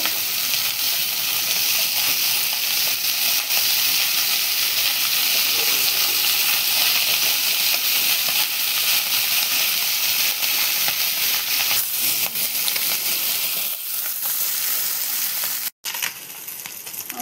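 Fish frying in hot oil in a pan with dried chilli, cumin and ginger, giving a steady, dense sizzle and hiss that runs unbroken and close throughout, with no voices.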